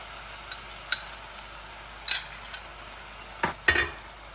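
Peppers and chicken cook in teriyaki sauce in a stir-fry pan. A soft, steady sizzle runs underneath, broken by a few sharp utensil clinks and scrapes from stirring.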